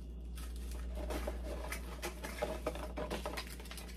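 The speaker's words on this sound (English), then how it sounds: "I decided that I'm gonna go ahead and add 1/4 cup of rice." Dry rice pours into a storage jar with a light, continuous patter of grains, steady and close, with a low hum underneath.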